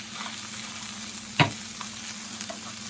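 Onions frying in a pan for a potato, mushroom and spinach frittata, an even hiss of sizzling oil with a single sharp utensil scrape in the middle.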